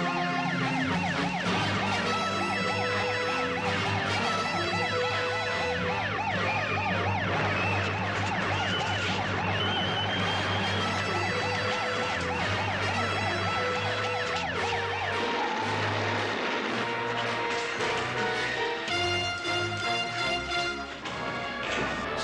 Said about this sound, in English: Shaki, sound general quarters.